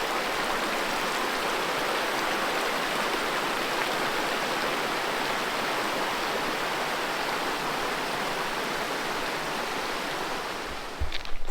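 Steady rushing water where two small creeks meet in a wild river gorge in Australia, a dense, even roar of flow that holds for the whole stretch, close and unbroken, with a few faint knocks near the end.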